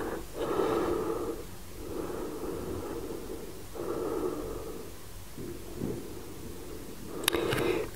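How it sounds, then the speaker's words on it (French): Slow, deep breathing during a held yoga pose, with audible inhales and exhales repeating in an even rhythm, close and soft, with no talking. "Et on respire dans la posture."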